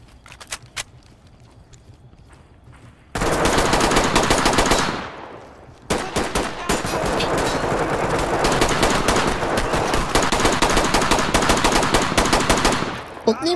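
Automatic gunfire in the video game Ready Or Not, a magazine emptied in two long, loud, rapid bursts separated by a brief pause, with quieter shots before them.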